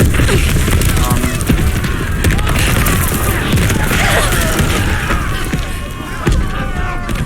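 Bombs explode in dense rumbling bursts during a bombing raid in the Stalingrad mission of Call of Duty Vanguard, mixed with gunfire and mechanical clatter and held loud throughout.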